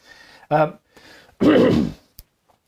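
Two short, harsh coughs close to the mic, separated by a brief pause, with a faint click afterward and otherwise quiet surroundings.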